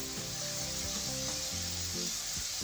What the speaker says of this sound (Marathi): आता आपण या कांद्यावर ही भिजवलेली चण्याची डाळ टाकूया